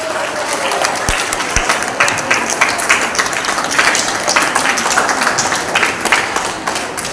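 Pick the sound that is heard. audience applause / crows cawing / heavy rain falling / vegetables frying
audience applause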